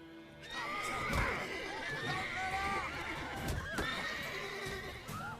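A horse in The Witcher 3 video game whinnies repeatedly and loudly up close, with rising and falling neighs over steady hoof clopping, while voices talk underneath.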